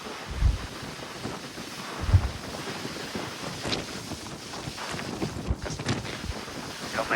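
Strong wind buffets the microphone on the front deck of a cruise ship in the middle of the ocean, a continuous roaring rumble with gusts swelling and easing throughout.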